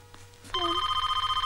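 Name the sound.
telephone bell ringing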